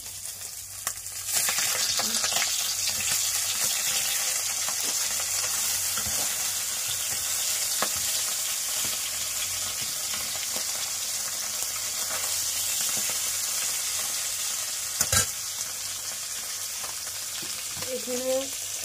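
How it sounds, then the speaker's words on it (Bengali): Fish frying in a pan gives a steady, continuous sizzle that runs unbroken for nearly twenty seconds, fairly soft and close, with a few faint clicks and knocks over it. "এখানে ভাজছি আর এখানে এইটুকু ভেজে রেখেছি"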